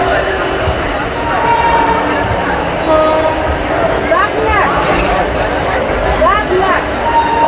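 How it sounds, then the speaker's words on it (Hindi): The Howrah-Jamalpur Super Express pulls out of platform 8 in a busy station. Rail rumble and clatter run throughout, with whistle tones rising at intervals and nearby voices talking under the noise. "यहाँ से हम लोग का Howrah Jamalpur super express 8 number platform depart करते हुए।"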